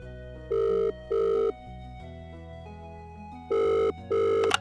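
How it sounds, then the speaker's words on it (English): A telephone bell rings in two double bursts, with a pause between the pairs, close and clear over a quiet room hum. "the phone begins to ring"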